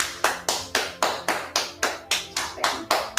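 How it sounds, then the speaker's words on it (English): Hands firmly tapping and slapping the body during a qigong immune-support routine, a steady series of about a dozen sharp, close slaps at an even brisk rhythm, with no talking. "you've heard how firmly I am also tapping or slapping or knocking"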